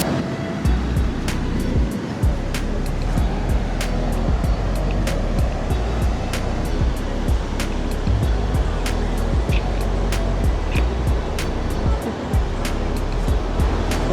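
Ocean surf rolls steadily onto a busy beach in Kuta, Bali under poor weather, a continuous loud wash of breaking waves with a low rumble throughout, sharp clicks scattered on top and no clear talk.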